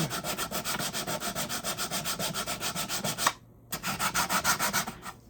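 80-grit sandpaper worked by hand over a spot on a Zenith 9-S-262 tube radio chassis, producing close, rhythmic rasping strokes, a brief pause, then more strokes.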